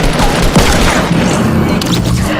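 Gunfire booms from a Fortnite match, several loud crisp reports mixed with game noise, up close and heavy in a busy battle.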